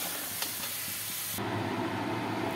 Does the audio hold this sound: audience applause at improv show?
no